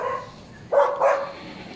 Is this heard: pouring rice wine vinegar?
no